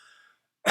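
A single sharp cough bursts out at the end, loud and close, after a faint breathy tone fades into silence.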